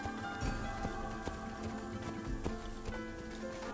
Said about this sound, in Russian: Здесь просто лошадь.